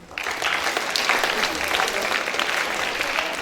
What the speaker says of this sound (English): Can we all clap for Swamiji?